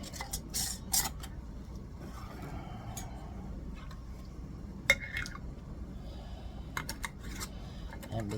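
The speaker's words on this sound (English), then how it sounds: "we're going to put the lids on" Scattered light clinks and ticks of metal lids and glass canning jars being handled as lids go on, a few sharper taps among quieter rattles, no talking.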